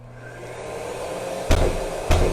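An AMES FLEX sander system unit runs with a steady, loud whir like a blower, building after start-up and broken by two sharp thumps near the end.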